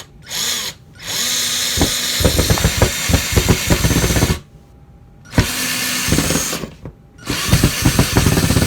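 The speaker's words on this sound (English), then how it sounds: "So it makes it really easy for us to put it in the drill" A power drill whirs in loud bursts, stopping and restarting several times, with rattling clicks as it drives a screw into a wooden frame for an outdoor access panel.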